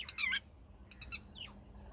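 A lapwing near its nest on farmland gives sharp, high chirping calls in quick bursts, with a short descending call toward the end, moderately close over a quiet background.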